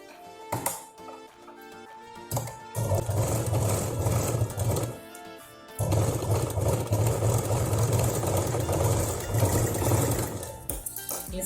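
A sewing machine stitches cloth for a ladies handbag, running in loud, steady mechanical bursts with short pauses between seams, close and alone.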